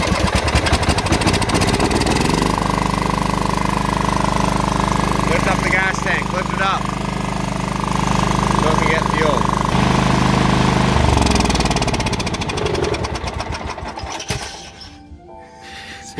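A custom racing lawnmower engine is cranked over and runs at a loud, steady idle for about fourteen seconds, then sputters and cuts out near the end, with voices talking over it.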